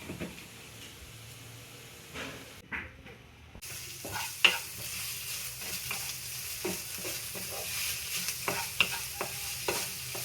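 Onion and broccoli fry in a pan as a spatula scrapes and stirs them in irregular strokes over a steady low sizzle, with a brief lull before the stirring picks up again.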